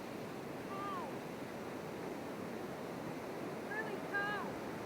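Steady, rushing surf and water noise at a tidal freshwater stream mouth in New Zealand, broad and continuous, with a few faint whistle-like calls over it.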